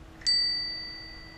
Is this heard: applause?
no